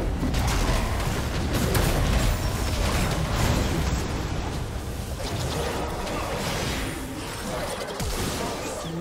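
Turret destruction in League of Legends during a top-lane Nasus versus Gnar match: dense, loud crashing and rumbling game effects fill the whole stretch, with layered impacts and booming debris noise that swells and slowly eases off near the end.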